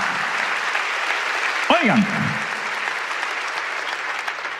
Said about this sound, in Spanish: Alguien tiene que aplaudir más que eso si lo están recibiendo.